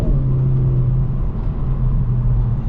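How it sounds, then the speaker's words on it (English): A 2023 Kia Forte GT in sport mode pulls hard through a 0 to 60 run, its engine a steady, loud droning rumble heard from inside the cabin with no talking. "let's check out the 0 to 60. We're actually gonna put it in sport mode"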